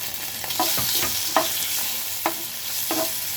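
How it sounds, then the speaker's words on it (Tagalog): A small amount of seasoned pork sautéed in a pan, a steady sizzle under repeated scrapes and stirs of a utensil, several distinct clinks and swishes spaced irregularly, close by with no talking. "Sinugin natin."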